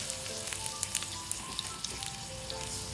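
Dried red chillies hiss in hot coconut oil while tempering for an Onam sadya koottucurry, a soft, continuous sizzle broken by occasional small crackles and pops, fairly quiet and close with no talk.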